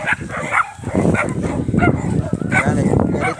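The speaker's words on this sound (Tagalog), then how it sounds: "Galit yung mga aso." Several dogs bark and yip agitatedly in a steady, overlapping chorus, close by, with voices faintly mixed in.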